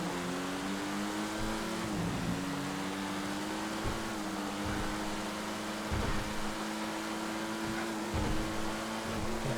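A Pariah sports car engine in the GTA FiveM driving game, holding a steady droning tone with gentle pitch dips and rises as it drives at speed, loud and continuous, with no talking.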